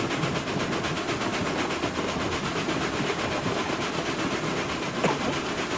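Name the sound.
train running on rails in a video game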